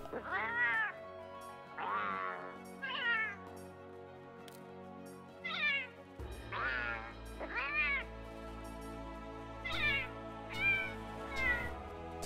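Palico cat voice option in the video game Monster Hunter: World, a series of about nine clear, synthetic meows in uneven bursts, played alone over a soft background hum from the game.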